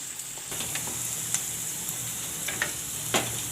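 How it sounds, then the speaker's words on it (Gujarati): Valor beans sizzle steadily in hot oil in a pan, a constant close frying hiss with occasional small crackles and pops, no voices. "આપણે પહેલાં આને તેલમાં સડી જવા દેવું"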